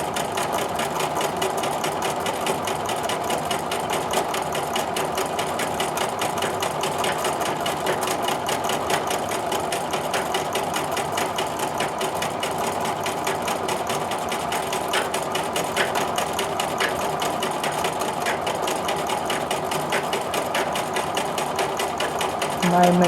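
A sewing machine stitches a quilt design nonstop, its steady rapid mechanical hum close and loud for the whole stretch. The machine runs noisily, with a fast even needle rhythm and no break.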